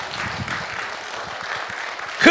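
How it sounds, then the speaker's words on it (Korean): Audience applause at a Korean church-related speech rally: a steady wash of many hands clapping, swelling into a louder, closer burst of clapping right at the end. "박수, 박수, 박수."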